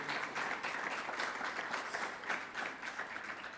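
An audience at a leaders and business empowerment summit claps in a brief, steady round of applause, a dense patter of many hands at moderate distance that sounds fairly subdued.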